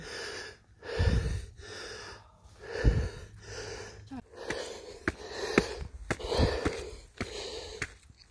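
A hiker breathes heavily on the Grand Canyon walking trail in Australia's Blue Mountains: close, loud puffing gasps and rasping inhales in a steady, labored rhythm, with no talking.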